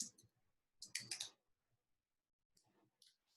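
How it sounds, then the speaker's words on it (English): Quiet bursts of rapid computer keyboard clicks, a short flurry, a longer run, then a pause before a few more taps. "typing in my client's name"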